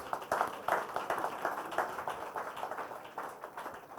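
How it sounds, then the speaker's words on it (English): An audience at an honours ceremony for Comrade Adeyanju claps in a steady, dense wash of applause that stays loud and even throughout, with a faint voice underneath. "So I want us to give ourselves a round of applause"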